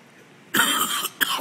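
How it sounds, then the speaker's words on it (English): A person coughs in a gallery setting at an artists' market, two close, loud bursts: a longer harsh cough followed by a short second one after a brief pause. "Oh, excuse me, I coughed."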